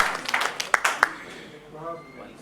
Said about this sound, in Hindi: तालियों के साथ इस्तकबाल कीजिए मोहतरमा नाज़िया सहरी नैनीताली का।